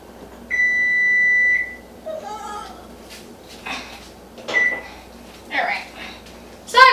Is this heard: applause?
no